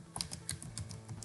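Fingers type rapidly on a computer keyboard, entering a domain name for a Google Sites setup: a quick, close run of crisp key clicks with uneven rhythm and no voices.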